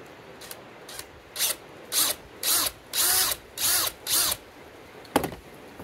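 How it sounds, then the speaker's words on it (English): Six short bursts of a power drill whining at close range as it drills out a metal pin from a knife's tang, each lasting about half a second with brief pauses between, then a faint final tap. "I'm going to drill that out"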